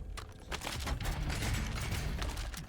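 SMG fire rattles in rapid bursts in Call of Duty Warzone Resurgence, dense and close with sharp repeated cracks that stay loud across the whole stretch.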